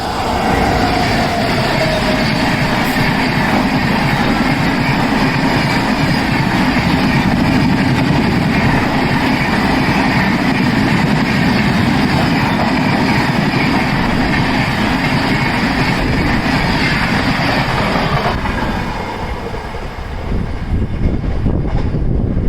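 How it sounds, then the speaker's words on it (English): A train passing at full speed on a Kerala to Mumbai rail journey, a loud continuous roar and rumble of wheels and carriages lasting about twenty seconds before easing off at the end. "you can see the train coming with full speed"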